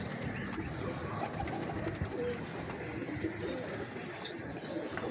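Breeder pigeons coo in a loft, a low murmuring chorus against a constant hiss of background noise, moderately close and steady throughout.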